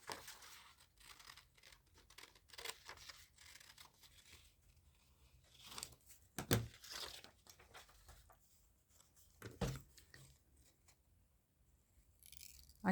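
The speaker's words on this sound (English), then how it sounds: "So I'm going to cut around this." Scissors snip and rustle through paper while a gumball machine picture is cut out, a run of quiet, close crinkling cuts broken by a few sharper handling noises.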